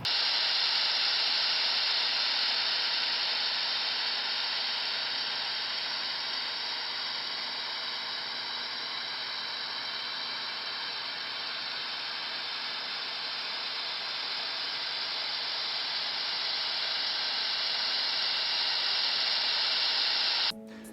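Steady, loud hiss of a white noise test signal played into a Rode Wireless Go lavalier microphone, holding constant for about twenty seconds, then cutting off abruptly at the end.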